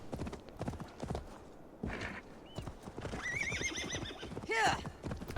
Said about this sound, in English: I do like the sound the horse's hooves make on this game.